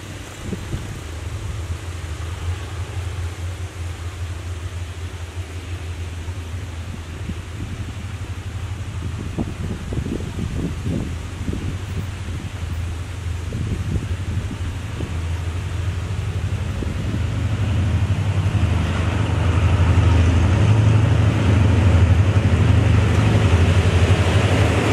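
Rapid train number 172 from Sungai Kolok to Bang Bamru, hauled by Hitachi locomotive 4522, rumbling past with a rising low roar, intermittent clanks and rattles midway, and a louder rush toward the end.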